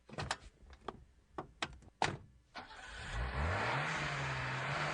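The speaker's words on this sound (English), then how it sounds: "Check out my new car I just got" A newly bought car from a dealership: several sharp door thunks and latch clicks open the clip, then the engine starts and settles into a steady, loud idle with a rising rev that holds to the end.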